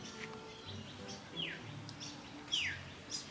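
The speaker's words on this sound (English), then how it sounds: "Can you hear the sound of the birds?" Birds chirping outdoors in the morning after rain, a few faint, thin rising calls spaced apart over quiet background ambience.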